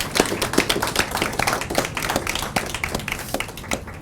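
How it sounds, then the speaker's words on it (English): An audience claps for veterans at a pasta-making event at The Fireplace restaurant, steady overlapping hand claps running evenly and fairly close. "let's give the veterans a round of applause"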